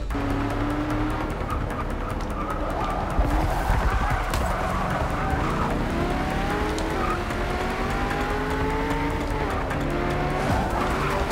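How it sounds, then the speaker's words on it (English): Shelby GT350R in Forza Motorsport 6 at the Nurburgring, its V8 engine revving high and hard under heavy wheel spin, with tires squealing and shifting pitch as the car accelerates, loud and continuous throughout. "So much wheel spin."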